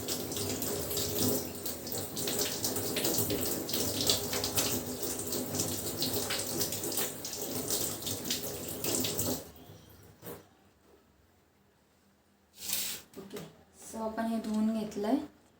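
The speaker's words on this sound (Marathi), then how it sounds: "तर हे मी धुवून घेणार आहे पूर्ण आधी." Running tap water splashes steadily as ingredients for homemade hair oil are washed under it, continuous and close for about ten seconds, then stops, with someone talking over parts of it.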